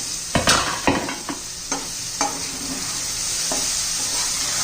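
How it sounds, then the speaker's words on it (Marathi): Mixed vegetables for palak pulao sizzle steadily in a hot pan while a spoon stirs them, scraping in a few sharp clanks early on, then settle into a continuous frying hiss, close and moderately loud, with no voices. "बघा जरा दोन तीन मिनिटं परतून घेऊया"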